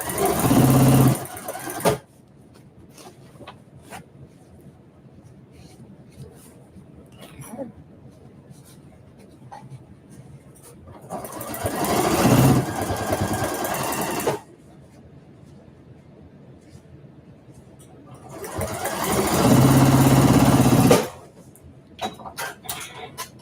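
A sewing machine stitches a seam on a canvas caddy over a thick handle, running in three separate bursts with quiet gaps and small handling noises between them.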